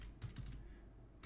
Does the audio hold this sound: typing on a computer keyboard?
yes